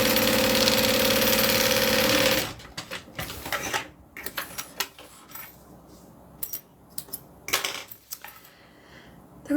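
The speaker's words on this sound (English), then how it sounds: "I'm going to sew the sides together only because they're bulging out." A sewing machine stitches the bulging sides of a Becca together, starting with a loud, steady mechanical run that stops abruptly, followed by scattered clicks, taps and handling noises close by.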